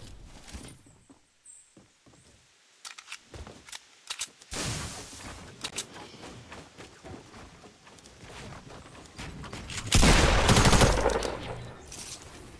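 Tactical SMG fire in a video game, with rapid bursts of shots scattered irregularly across the clip and a dense, loud stretch of continuous automatic fire near the end.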